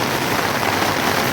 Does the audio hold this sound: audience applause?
no